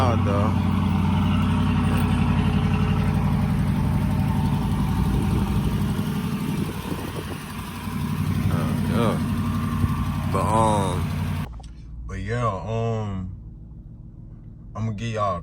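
A 2014 Jeep Grand Cherokee Overland Hemi on a straight-pipe exhaust idles on a cold start with a loud, steady low rumble, with someone talking over it for most of the stretch before the engine note is heard more on its own.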